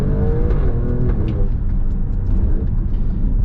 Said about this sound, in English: Oh, these gear shifts are incredible.